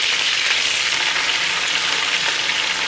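Chopped onion fries in a pot with a loud, steady hissing sizzle that fills the moment close up, unbroken and with no one talking.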